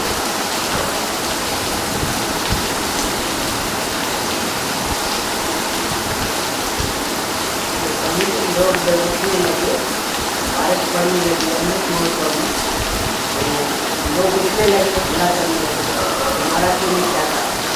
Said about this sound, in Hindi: चुपचाप बैठे रहो, बड़ी महंगी बरसात पड़ी है